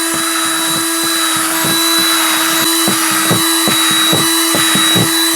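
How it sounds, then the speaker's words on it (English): Power drill with a small bit boring air holes in the plastic lid of a tote worm bin, a steady close whine broken by a rapid run of short repeated bites as each hole is punched through. "you got to keep your smaller drill bits straight"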